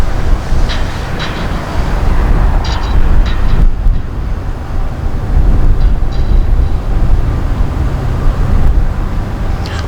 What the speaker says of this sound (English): Looks like a stacked container train, one locomotive in the front.